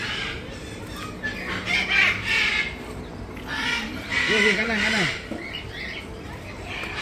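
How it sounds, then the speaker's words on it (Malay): Birds squawk and call intermittently in the distance at an animal park in Malaysia, overlapping with a voice speaking briefly and faint crowd background. "Banyak burung-burung."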